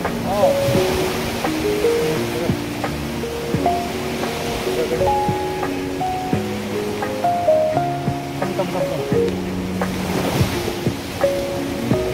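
Ocean waves wash ashore at Kalapathar beach on Little Andaman, a beach with black stones, heard as a soft, steady surf and wind rush beneath louder stepping music notes.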